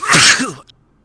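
A single close, loud human sneeze, a sharp burst that falls quickly into silence.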